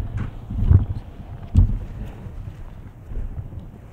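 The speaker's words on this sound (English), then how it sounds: "Bit of wind" Wind buffets a microphone on a golf course in low, rumbling gusts, with two stronger bursts standing out against a steady blustery background.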